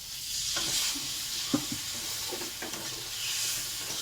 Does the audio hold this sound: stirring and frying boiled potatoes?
yes